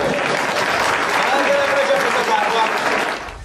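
An audience claps in sustained, dense applause, a loud even roar of many hands that holds steady before tapering off near the end.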